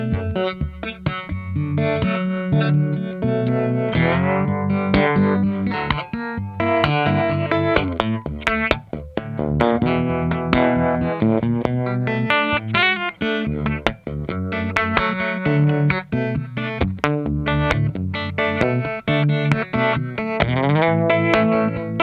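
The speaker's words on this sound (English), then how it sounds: "Now let's have a listen to the vibrato on this." Slide guitar for a rig played through an amp's vibrato circuit, sustained chords and gliding notes pulsing with a steady wavering throb, loud and continuous throughout with no talking.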